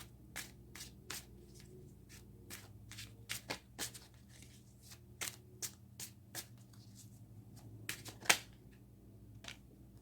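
Tarot cards shuffled and drawn from a deck: scattered light slaps and crisp clicks come in uneven bursts over a quiet room hum, with one sharper snap near the end.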